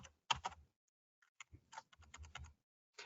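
A zip code typed on a computer keyboard: a quick burst of close key taps, a pause, then a longer run of rapid clicks and one final keystroke in a quiet room.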